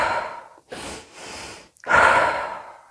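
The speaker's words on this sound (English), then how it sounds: "breathing in for 2 and out for 1," Fast deliberate breathing as a relaxation exercise: sharp audible inhales and exhales, close and fairly loud, in two bursts with a pause between, no talking.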